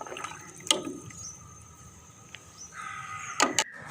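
Water is poured into sour lassi for pakora kadhi in a home kitchen, with brief splashy bursts near the start and end around a quieter stretch with a faint tonal hum.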